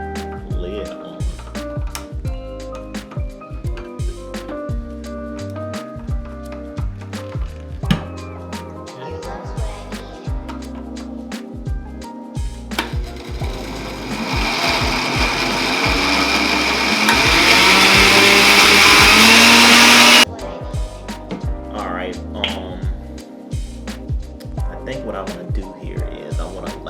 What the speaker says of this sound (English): now we can begin the blend